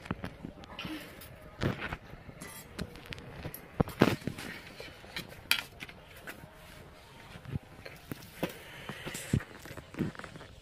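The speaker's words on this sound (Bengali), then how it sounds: "চলো সবজিগুলি প্রথমে কেটে নিই।" A knife cuts vegetables (cauliflower stalk, tomato, flat beans and potato) in a home kitchen with a scattered series of sharp, close taps and scrapes at an uneven rhythm over a quiet background.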